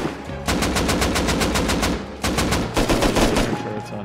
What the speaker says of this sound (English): They turned the turrets on?